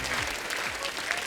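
Studio audience at a Hindi TV comedy show bursts into loud, sustained applause welcoming a lyricist on stage, with a dense wash of clapping and faint low background music underneath.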